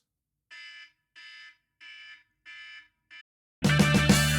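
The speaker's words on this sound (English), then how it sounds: "An alarm will go off after 5 minutes, and it will sound like this." A timer alarm goes off in five evenly spaced, moderately loud electronic beeps against silence, the last one cut short before a loud, unrelated burst of sound.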